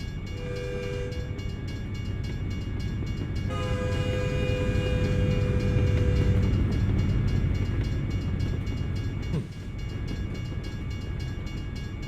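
A train rolls past in the American Truck Simulator video game while cruising through Iowa, a sustained rumbling of rail cars with tonal horn-like notes that fade in and out and a brief dip near the end, no voices.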